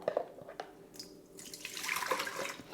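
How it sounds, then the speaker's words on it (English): Liquid poured into a mixing bowl as the first step of a linseed Kornspitz bread dough that includes dissolved yeast and sourdough starter, a close, steady watery splash and trickle that grows fuller toward the end. "Always put the liquid in first."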